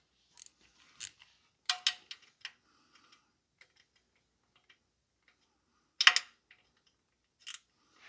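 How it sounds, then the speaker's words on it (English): Ratchet working on the 10 mm oil pan bolts of a 2009 Pontiac Vibe GT 2.4, using a quarter-inch ratchet with an extension and a deep socket. Faint, sparse metallic clicks come in small irregular clusters separated by quiet gaps. "I'm gonna crack open each one individually, and once I get them loose, I'm gonna use a cordless ratchet to take all of them out"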